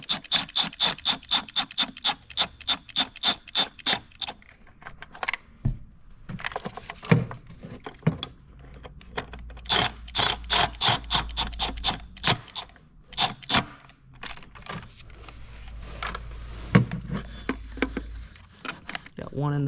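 Ratcheting wrench torquing bolts on a 2019 Dodge Durango oil cooler, a fast run of metallic clicks and rasps, then bursts of ratchet strokes with scraping and clunks, close and fairly loud.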